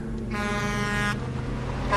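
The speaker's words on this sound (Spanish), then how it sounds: "escuché el claxon de un tráiler como si estuviera a" A tractor-trailer truck's horn blares in one loud, sustained tonal blast lasting under a second, over a steady low rumble of road noise.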